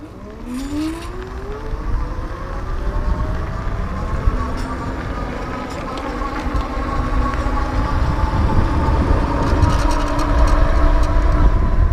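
A Sondors electric fat bike pulls away at full throttle, its motor whine climbing steadily in pitch over rushing wind and road noise, loud and close throughout.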